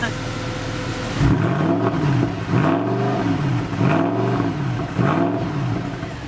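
A Mercedes CLK63 AMG Black Series V8 revs repeatedly, about four sharp throttle blips that rise and fall at a steady rhythm, loud and close, with a deep burbling idle between them.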